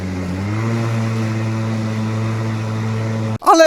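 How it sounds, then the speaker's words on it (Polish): A Milwaukee M18 cordless battery lawn mower motor hums steadily and then steps up in speed as it senses more load, holding a loud, even whine before a brief break at the end. "Jeśli maszyna wyczuje, że jest większy opór, od razu zwiększa sobie obroty silnika."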